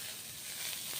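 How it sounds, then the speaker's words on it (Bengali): Soybean chunks fry in a home kitchen pan with a steady, close, crackling sizzle that holds evenly for about a second, with no talking. "সোয়াবিন ভেজে নিচ্ছি"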